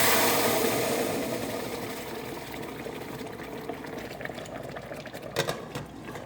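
Cooked dal (lentils) in a pot on the stove gives a loud, steady bubbling hiss that gradually softens over several seconds, with no voices.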